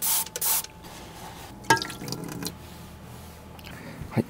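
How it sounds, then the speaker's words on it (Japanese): Rain falls on a Toyota TownAce camper van, with irregular drips and soft patter over a constant low background noise and a few sharper splashes, heard from inside. "これでまた雨が降ってきましたね。"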